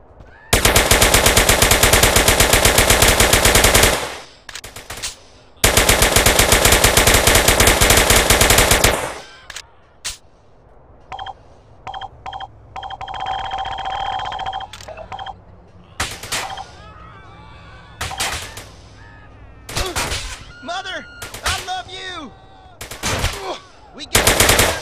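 Automatic gunfire from the video game GTA San Andreas, two long loud sustained bursts at the start followed by scattered sharp single shots and shorter volleys over a game soundscape.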